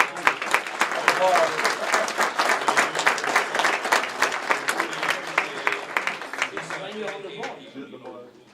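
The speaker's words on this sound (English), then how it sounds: "I'll give her a hand of applause and thanks." Guests at a gala dinner give a round of applause, dense crowd clapping that swells quickly, holds for several seconds, then thins out with faint voices murmuring as it fades.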